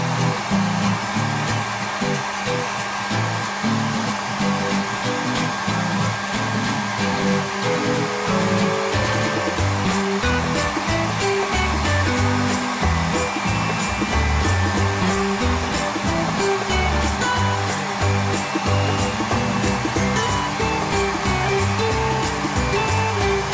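A hair dryer blows steadily on a freshly shampooed dog, a loud, close, continuous airy roar with no pauses throughout.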